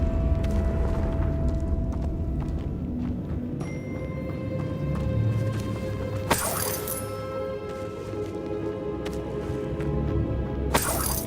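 The Confringo explosion spell in Hogwarts Legacy bursts with two loud crackling blasts over a dense, roaring battle bed of layered magic effects and ringing tones, with no voices under the din.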